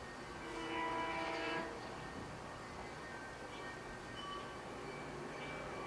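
Train sound effect with a rumbling rail passage and tonal horn or whistle-like lines, louder near the start and then a steady, moderately faint rolling noise.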